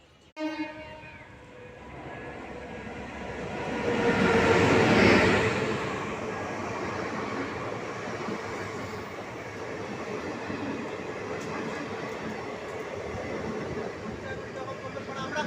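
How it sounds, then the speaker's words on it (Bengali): The Sealdah–Jangipur Express, a DEMU train, pulls into platform two. Its rumble swells to a loud peak and then settles into a steady rolling clatter, with voices in the background. "শিয়ালদহ জঙ্গিপুর এক্সপ্রেস ট্রেন দু নম্বর প্ল্যাটফর্মে ঢুকছে"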